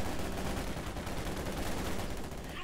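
Dense, continuous automatic gunfire from a Sturmgewehr assault rifle in the Company of Heroes 2 strategy game, loud rapid bursts filling the whole moment with battle noise and no clear talking.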